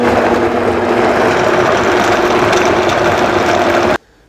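Blender whirring loudly and steadily while processing fermented jalapeno hot sauce, a constant dense motor roar that cuts off abruptly near the end.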